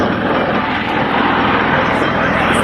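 An MV-22 Osprey tiltrotor flying at the Wings Over Houston airshow, a loud, continuous engine and rotor roar with a low pulsing throb, heard over an announcer's voice.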